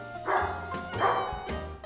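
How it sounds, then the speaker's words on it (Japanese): A zombie dog in the survival game Project Zomboid barks three times at an even pace, loud and near, with faint background noise between the barks. "ワンちゃんの声がしたゾンビ犬"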